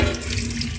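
Hot water runs steadily from a kitchen tap in one continuous, close, full-bodied stream, heard alone for a brief moment.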